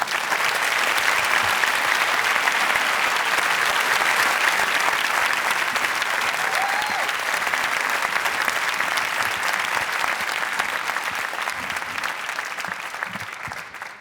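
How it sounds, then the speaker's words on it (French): A large audience at La Veillée gives author Douglas Kennedy a long, dense, strong ovation, a sustained wash of clapping at steady volume that eases slightly near the end. "Merci d'applaudir très fort Douglas Kennedy."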